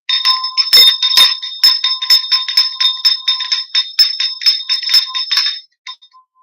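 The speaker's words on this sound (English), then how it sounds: "I'm about to ring the bell and it's going to get kind of loud" A hand bell rung loudly and rapidly in a fast, ringing series of bright metallic strikes for several seconds, then stopping with a couple of final dings.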